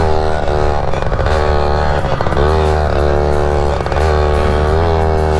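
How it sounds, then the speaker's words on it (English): A small 60-size dirt bike engine revs hard up a driveway, its buzzing two-stroke-like tone rising and falling in repeated throttle blips, loud and close throughout. "This is, I think, the world's smallest dirt bike."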